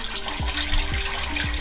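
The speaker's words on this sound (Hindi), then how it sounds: "तकरीबन आधा लीटर मैंने गर्म पानी डाल दिया इसमें" About half a litre of hot water pours into a small cooking pot on a lit stove for moong dal, a steady close splashing gush with faint repeating knocks beneath.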